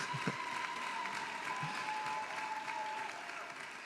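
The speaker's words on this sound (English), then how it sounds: "Well-deserved applause and appreciation for our soloist, for our rock star." Faint, steady audience applause for a soloist after a festival symphony orchestra concert half, heard from a distance as a continuous wash of many hands with a few brief voice sounds mixed in.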